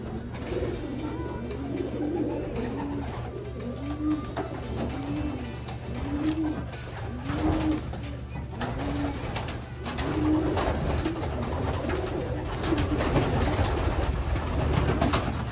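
Racing pigeons coo steadily at the loft after arriving, a repeated rhythmic bubbling coo from several birds close by over a constant low background hum, with no talking.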